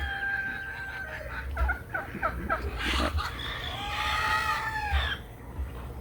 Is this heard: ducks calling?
yes